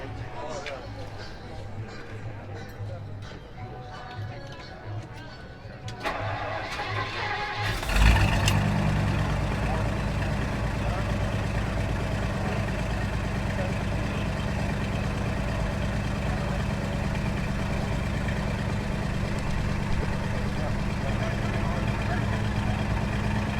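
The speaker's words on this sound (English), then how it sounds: "Obviously has a good sound to it too." A 1959 Edsel Corsair with a 361 V8 settles into a steady, loud idle after starting near the eight-second mark, its low rumble running continuously beneath people talking.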